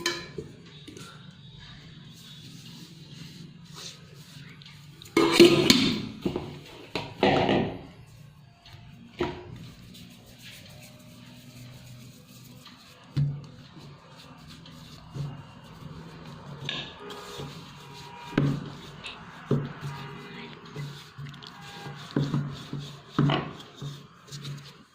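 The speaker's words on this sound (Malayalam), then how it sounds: "ചപ്പാത്തിക്ക് പരത്തുന്ന പോലെ പരത്തിയെടുത്താൽ മതി." Spiced dough for a Kerala diamond-cut snack is rolled out thick like chapati, giving soft intermittent wooden rubbing and rolling strokes on a board, with scattered knocks and quiet pauses between bursts.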